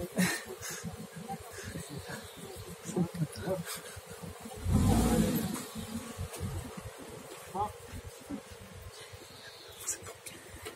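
A car passes outside, a low rumbling swell that rises for a couple of seconds and fades, heard under an indoor setting with insect-like buzzing and intermittent speech.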